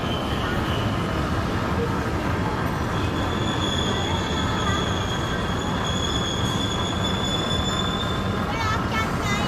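A Singapore MRT train pulls into a station with a loud, continuous rolling rumble and high, sustained wheel squeal that rises near the end, heard up close.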